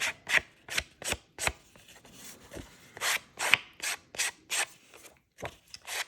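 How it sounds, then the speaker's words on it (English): An emery board is drawn along the edge of a paper card in short, quick rasping strokes. About a dozen close, dry scrapes come in an uneven rhythm, with no talking. "a handy dandy emery board comes in, and I have one that has a fine edge to it"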